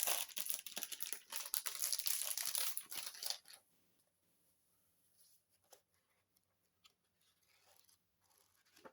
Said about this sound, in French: Je vais vous le déballer pour vous faire voir.